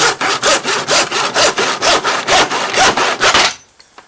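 A hand saw cutting excess off a wooden board, about a dozen loud, evenly paced rasping strokes in close succession, then stopping into quiet.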